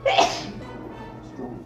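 A woman on a couch sneezes once, sharply and close, during a sneezing fit, followed by a brief low murmur of speech.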